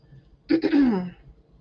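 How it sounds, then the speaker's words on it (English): A single short, throaty throat clearing with a rough cough-like rasp, close and alone against a quiet room. "I don't know why I'm coughing like this."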